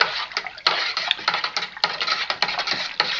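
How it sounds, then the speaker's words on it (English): Liquid sloshes and splashes as it is stirred hard inside a homebrew fermenter, with quick, uneven strokes running continuously and close by, and no voices. "my little trick is I like to give this a nice stir"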